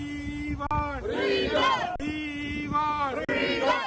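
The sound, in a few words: protesters chanting slogans outside the Indian consulate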